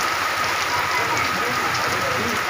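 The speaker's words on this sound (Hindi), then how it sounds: "जबरदस्त बारिश, जोरदार बारिश हो रही है।" Heavy rain from Cyclone Tauktae in Bundelkhand, India pours down in a dense, steady hiss, pattering hard on surfaces close by.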